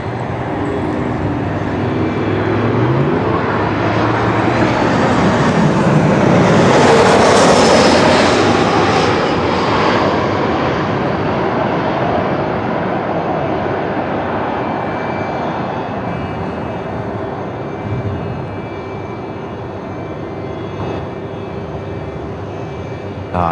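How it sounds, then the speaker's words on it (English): A Virgin Australia Boeing 737 MAX 8 touches down on runway 16 at Melbourne Airport, its jet roar swelling loud as it passes, then fading into a long steady rumble along the runway. "The Velocity Max 8 there, just touching down, runway 16."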